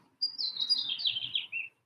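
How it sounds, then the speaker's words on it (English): A single bird chirps outdoors on a Saturday morning, a bright, quick run of tweets that falls slightly in pitch over about a second and a half, clear and fairly close against a quiet background with no talking. "So the birds are chirping."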